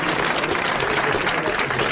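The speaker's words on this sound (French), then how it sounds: "Je vous demande d'applaudir Monsieur Lasserre de Villeneuve-d'Ornon" A crowd claps steadily and loudly, a dense, even wash of applause with no pause.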